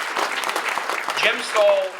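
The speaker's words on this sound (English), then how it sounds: "How about a round of applause for Will and Jim" An audience at a political campaign event applauds, a dense steady clapping under crowd noise with a few voices and whistles rising near the end.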